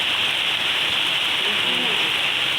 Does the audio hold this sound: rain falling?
yes